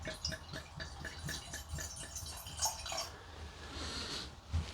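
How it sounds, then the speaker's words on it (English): Mulled white wine made from supermarket grape juice is poured into a glass, a close, gentle liquid trickle with soft gurgles and splashes, continuous and fairly quiet. "I'll just pour a little bit of this because the main event should be the mulled wine"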